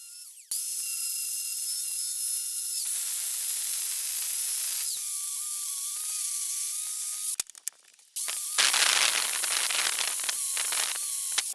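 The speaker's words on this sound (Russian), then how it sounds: "Установив насадку с наждачной бумагой на болгарку," An angle grinder fitted with a sandpaper attachment scrubs rust off an old, deeply pitted hammer, giving a loud, steady high-pitched whine and hiss that shifts in pitch, cuts out briefly, then returns rougher and harsher.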